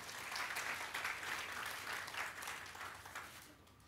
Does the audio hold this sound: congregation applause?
yes